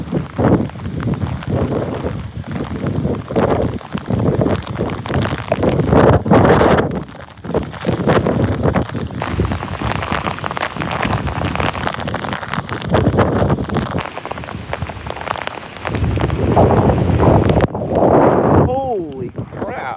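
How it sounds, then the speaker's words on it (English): Very strong wind roars and buffets the microphone almost continuously during a lake-effect rain and hail storm, loud and close, with a brief lull partway through and a voice near the end. "These are some very strong winds."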